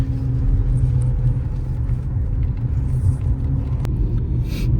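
A car cruises along a road at the start of a North Bengal road trip. A loud, steady low rumble of the engine and tyres fills the cabin, with no talking.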